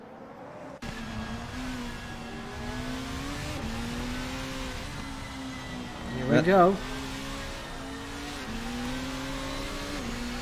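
Sim racing cars circle a Singapore Grand Prix street circuit, engines droning steadily with gear-shift dips in pitch and a brief louder rev near the middle, while a commentator talks over them.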